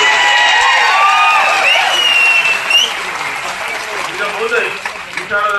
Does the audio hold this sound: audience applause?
yes